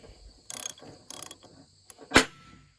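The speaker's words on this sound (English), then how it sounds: "put the nut on the bolt and tighten it up" An adjustable wrench tightens a nut onto a bolt during clutch assembly installation on an International Harvester 674 tractor: a few close, scraping metallic ratchet-like clicks in short bursts, ending with a sharper clank.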